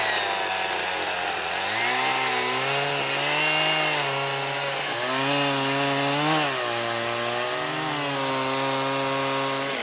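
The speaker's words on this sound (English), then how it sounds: "we'll just fire up the chainsaw and start following this notch that we made over the shop" A chainsaw notches a log for a bench, its engine steady and loud up close, with the pitch rising and dipping as the bar bites into the wood. No one speaks.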